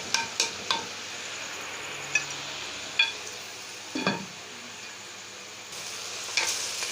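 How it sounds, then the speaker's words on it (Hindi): Spinach, with potatoes in the pan, is stir-fried in desi ghee, a soft steady sizzle with scattered spoon scrapes and light clinks against the pan, close and fairly quiet. "पालक को आपने बहुत ही अच्छी तरह से भूनना है ताकि ये कच्ची ना रहे"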